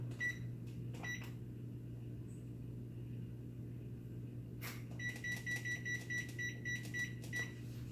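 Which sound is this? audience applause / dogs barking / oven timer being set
oven timer being set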